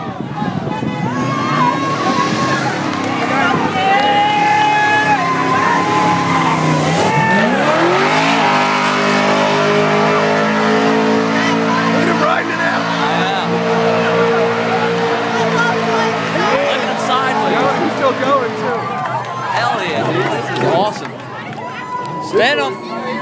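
A car doing a tyre burnout at the 2012 OCMD event, with a loud, sustained engine roar, revving and screeching tyre squeal lasting throughout as crowd voices sound in the background.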